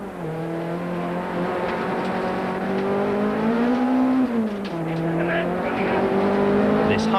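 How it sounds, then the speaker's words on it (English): Inside a Volkswagen Golf rally car in a 1991 Class B rally, the engine drones loudly and steadily, its pitch dipping and rising through gear changes, with road and tyre noise underneath. "We've placed an in-car camera with Cassie Coetzee and Wiley Harrington, the current Class B leaders in their Volkswagen dealer Team Golf"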